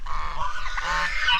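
A pair of farmyard geese honk nearby in rapid repeated nasal calls, loud and continuous through the short stretch, with no voices over them.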